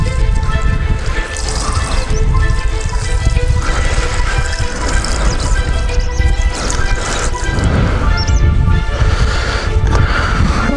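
Fresh 92-octane petrol pours steadily into the fuel tank of a Carver T 300 motor tiller, a loud, continuous liquid gurgle and splash from close by.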